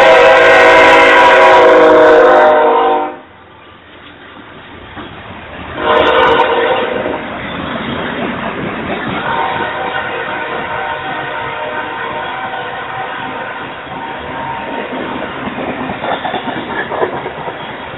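A BNSF freight train passes at Parkville, Missouri, its loud horn blaring at first, then a steady rumble and clatter of rolling railcars that carries on throughout, with a second horn blast partway through.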